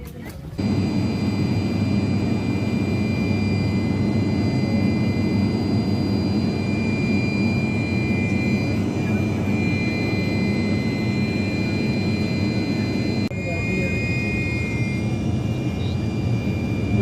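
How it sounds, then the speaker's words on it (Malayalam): Steady jet engine roar from a flight to Lakshadweep, heard from inside the aircraft cabin as a loud continuous drone with high tonal whine, persisting unbroken throughout. "ഫ്ലൈറ്റ്"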